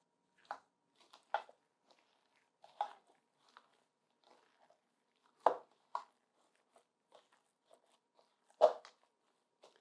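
Gloved hands squish and knead a raw turkey meatball mixture, giving sparse, soft wet squelches and clicks spaced a second or more apart, close and quiet with no talking.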